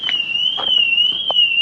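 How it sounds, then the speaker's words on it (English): A steady, loud electronic alarm tone near a Mercedes W123 holds one pitch throughout, with a few faint clicks underneath and no voices. "And that's not my alarm."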